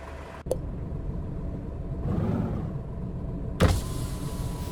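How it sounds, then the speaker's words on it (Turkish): In Truck Simulator: Ultimate, a BMC truck's electric window motor whirs briefly between two sharp clicks, over a steady low engine idle inside the cab. "camı açıyoruz böyle."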